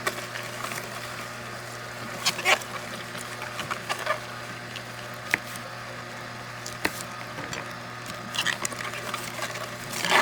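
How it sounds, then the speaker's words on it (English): A Hurom single-auger slow juice extractor grinds apples with a low steady motor hum. Scattered cracks and pops come as the fruit is drawn in, fairly quiet and with no one talking. "Let's go ahead and juice up the rest of these apples here real quick."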